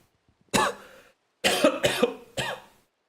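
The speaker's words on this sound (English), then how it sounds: "this cough is still" Several harsh coughs, one then a quick cluster of three after a pause, close and loud.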